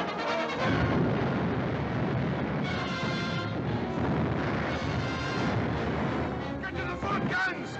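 Ship's cannon fire a broadside in an adventure film battle scene, a thick, continuous roar of booming blasts and rumbling noise that carries on loudly without a break.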